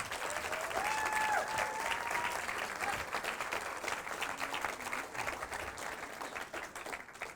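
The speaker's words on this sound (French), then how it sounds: "On peut l'applaudir." Church audience at a student baptism and testimony closing service breaks into sustained applause, a dense even wash of clapping that holds steady before thinning slightly toward the end.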